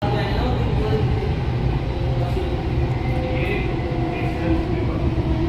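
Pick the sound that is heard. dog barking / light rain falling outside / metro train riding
metro train riding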